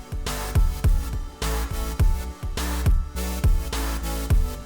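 Dense electronic dance drop from a remake, with low-cut filtering on its elements and punchy kick-and-bass hits in a steady four-on-the-floor pulse, loud and continuous, with no talking.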